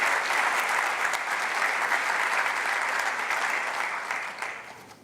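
A town hall audience gives a cheering section's steady burst of applause, dense and sustained for several seconds before starting to thin out at the end.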